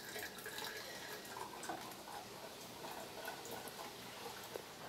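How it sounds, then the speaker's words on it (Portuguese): Homemade acerola juice is being strained, and the liquid gives a steady, soft pouring and trickling wash with faint drips throughout, fairly quiet and continuous. "ela tá terminando de coar o suco"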